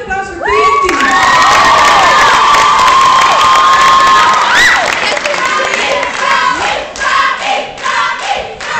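An audience at a school rock gig in a venue hall applauds and cheers loudly for a band playing a cover, with shouts, whoops and sustained whistles over clapping that gradually thins out.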